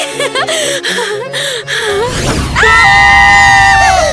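Several people scream loudly in an animated mermaid and vampire story, with shrill, sustained cries building over chatter and giggling before one long piercing shriek near the end.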